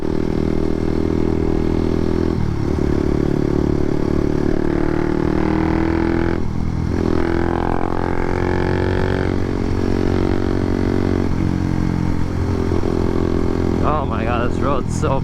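A Honda motorcycle rides steadily along a road, its engine droning loud and close the whole way through, with someone talking over it now and then.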